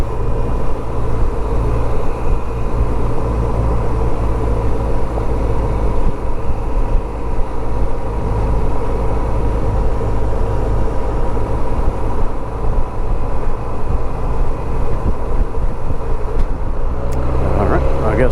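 Honda SilverWing scooter riding through Houston traffic after a school zone, a steady loud engine and wind roar with passing vehicles, continuous throughout with a brief shift near the end.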